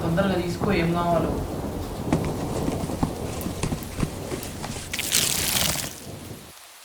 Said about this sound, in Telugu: వర్షం ఎక్కువ అవుతుంది